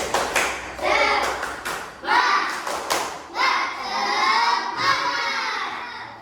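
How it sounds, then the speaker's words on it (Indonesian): A group of fourth-grade primary school children claps and cheers in rhythmic bursts in a classroom, loud and close, with shouting voices mixed into the applause. "Kasih aplaus terlebih dahulu."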